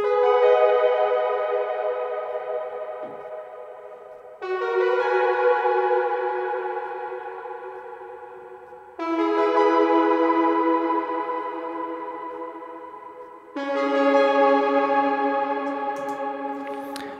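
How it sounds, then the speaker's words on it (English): Layered synth arpeggios with heavy, distant reverb, picking out the chords of a guitar part, played as four sustained, decaying phrases that each restart every four to five seconds, loud and alone with no voice. "What I've done in here is just playing little arpeggios, essentially, of the chords that the guitar's playing."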